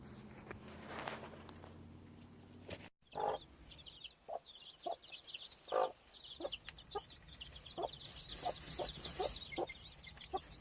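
A hen clucking in a farm yard alongside her chicks, soft repeated clucks spaced at irregular intervals, fairly near but quiet, with light background patter and no speech.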